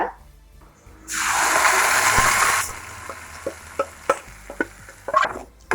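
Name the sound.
red coconut chutney stirred and heated in pan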